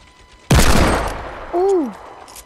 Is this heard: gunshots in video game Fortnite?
yes